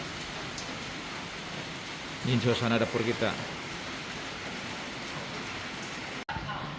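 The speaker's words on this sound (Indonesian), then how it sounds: "Ya masih hujan nih teman-teman." Steady morning rain falls outside a kitchen as a constant hiss of drops hitting surfaces nearby, while a person speaks briefly over it.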